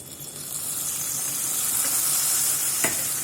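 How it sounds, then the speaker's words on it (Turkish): Mint fried in oil is poured into yayla soup, causing a dense, bright sizzle that swells and holds steady. There is a single brief clink near the end and no speech. "nanemi yaktım ve ilave ediyorum"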